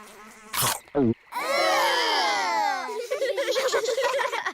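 Cartoonish buzzing of flies, a wavering drone that rises and falls after two short bursts, with some childlike vocal sounds mixed in.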